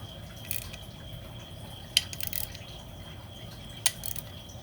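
Water drips from a leaking seal on a rebuilt 1987 Honda CR500 motorcycle engine, giving two or three sharp, faint drops spaced a couple of seconds apart over steady low background hiss.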